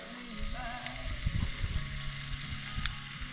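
Ribeye for Philly cheesesteaks sizzles on a cooktop at a campsite, a quiet, steady frying hiss with scattered clanks of a spatula being worked through the meat nearby.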